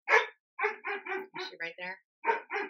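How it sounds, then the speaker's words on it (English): A pet dog barks in repeated short bursts close by, wanting to come inside, while someone talks over and between the barks. "Sorry for my dog."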